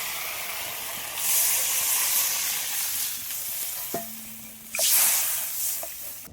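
Water poured into a pan of hot fried spice paste and oil for a fish curry sets off a loud hissing sizzle that swells twice, with a brief clink of utensils between the bursts.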